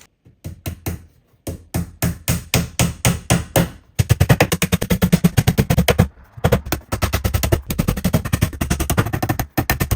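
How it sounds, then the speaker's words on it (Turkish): Nails are hammered into the back panels of a flat-pack multi-purpose drawer cabinet in rapid, close, loud repeated blows. Quick bursts of sharp taps run in steady rhythm with brief pauses between groups and no talking. "Bu şekilde paketin içerisinden çıkan bu çivilerle arkalıkların montajını yapacağız."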